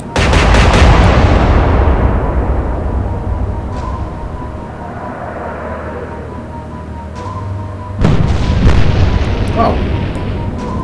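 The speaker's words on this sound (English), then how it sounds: "let's send some high explosives their way as well" Naval guns on warships firing high-explosive shells in Atlantic Fleet, a loud booming salvo that rumbles and slowly fades, then a second heavy blast a few seconds later, with a voice speaking over it.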